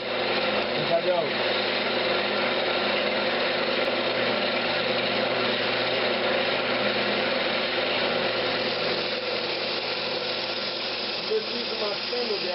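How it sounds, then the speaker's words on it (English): A wood lathe hums steadily while a spindle gouge hollows the top of a Brazilian cherry lidded box, a continuous close motor drone with faint cutting scrapes and a voice talking throughout. "Just using my spindle gouge. Just kind of hollowing out the top a little bit."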